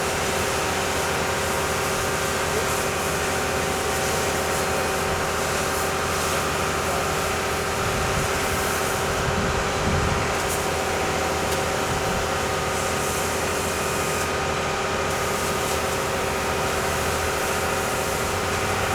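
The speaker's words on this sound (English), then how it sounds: "they're hosing off all the spray concrete on the tarp" Workers hose spray concrete off a tarp at a church basement construction site: a loud, steady hiss of water spray runs for the whole clip, mixed with constant machinery hum.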